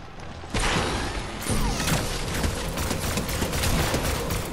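Dense, sustained gunfire rattles through a video game as players shoot at a shark, a near-continuous barrage of loud rapid shots with heavier thuds mixed in.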